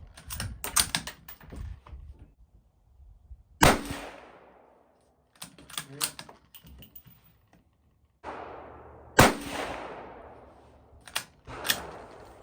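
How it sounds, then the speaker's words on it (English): A Ruger Precision rifle in .22 Magnum fires CCI rounds as several sharp, isolated reports, each trailing a short, fading echo, with quieter clicks and handling noise in between. "Our first shot is going to be with the CCI 22 Magnum."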